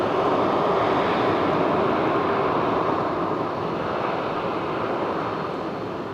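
An Iberia CRJ 900 jet passes at an airport, its engines making a loud, steady broadband roar that holds throughout and eases slightly toward the end, with no voices.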